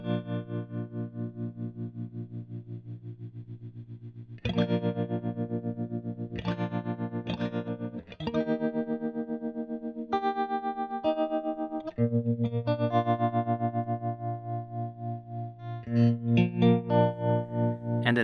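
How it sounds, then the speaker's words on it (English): Electric guitar through a solid-state Kustom Kasino Lounge amp with its tremolo engaged, strummed chords and notes pulsing in a steady throbbing volume wobble, close and clear with no talking. "There is a tremolo section with speed and depth knobs."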